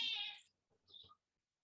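A pet cat howling near the floor, one drawn-out meow followed by a shorter, fainter cry, close and alone against silence.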